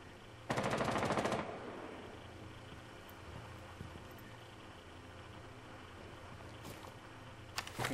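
A short, fast automatic burst of gunfire in the Rainbow Six Siege video game, loud and close for about a second, followed by quieter ambient game noise with a few faint distant clicks.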